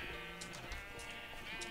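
Sheep in Minecraft bleat several times in short, wavering calls, fairly quiet and close, with no talking over them.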